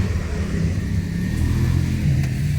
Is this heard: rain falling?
no